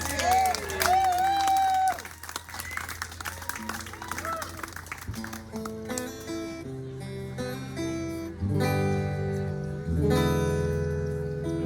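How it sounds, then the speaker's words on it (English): Live audience applauding the mandolin player Zeke at a music show, dense clapping with some voices loud at first, then fading under music as a band starts up. "how about a round of applause for Zeke playing the mandolin up here earlier?"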